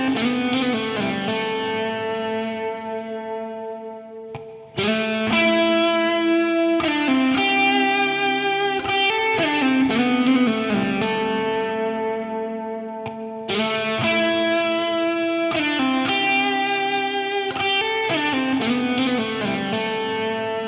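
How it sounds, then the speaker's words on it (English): Electric guitar played through an emulation of a Friedman VE amp built in the Cardinal modular environment, a distorted tone with chorus and echo, ringing sustained chords and phrases with brief pauses and new attacks, alone without talk. "Let's hear an A/B test of an emulation using Cardinal based on a Friedman VE amp."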